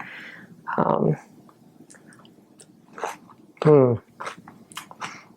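Someone takes two crunchy bites of rainbow slaw made with ginger, cilantro and raw vegetables, loud close crunches separated by quieter chewing and mouth sounds.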